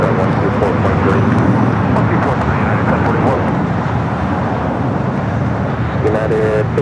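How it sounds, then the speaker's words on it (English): A United Boeing 757 airliner goes around at LAX with a loud, sustained jet-engine roar that holds steady throughout, while people talk over it. "the United flight going around, it was a 757"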